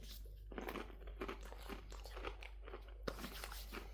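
Takis Intense Nacho rolled tortilla chips are crunched close to the mouth, with repeated dry bites and chewing crunches at an uneven rhythm and no talking.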